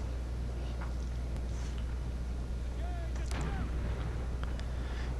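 Cannon fire in an American Civil War mod game at the Battle of Franklin: distant artillery reports thud over constant low battle rumble, with scattered sharper shots and faint background voices.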